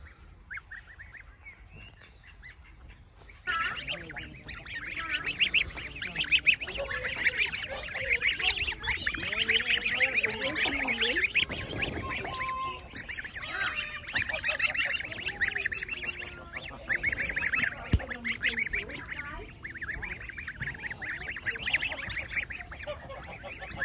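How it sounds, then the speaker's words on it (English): Geese and ducks honk and quack together at a pond in Haggerston Castle holiday park, Northumberland, a dense, continuous flock chorus, close and lively, with the goslings among them. "So a few geese, a few ducks that live on the, well, the various lakes and ponds that are around"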